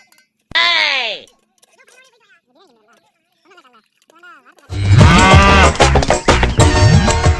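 A buffalo moos once, a loud drawn-out low call up close, then after a pause with soft talking a loud burst of other noise follows.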